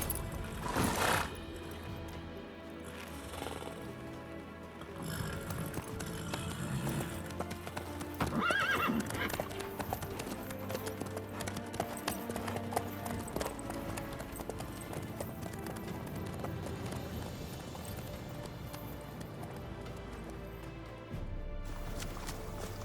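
Horse hooves in The Witcher 3 video game clip-clopping in a steady gait over ground for the whole stretch, with occasional whinnies and snorts and a faint background of outdoor ambience.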